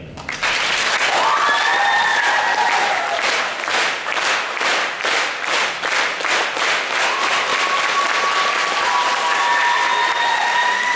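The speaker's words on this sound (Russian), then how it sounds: "ну закінчити наше виступлення ми би хотіли аплодисментами" Loud, sustained applause from a crowd at a KVN comedy show fills the whole stretch, dense clapping with a few faint whistles rising above it.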